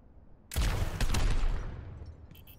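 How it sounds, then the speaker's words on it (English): Helix rockets from Overwatch fired at practice targets, giving a sudden loud burst of blasts and explosions that hits hard and then trails off in a fading rumble, with no voices. "Fire your helix rockets at the targets."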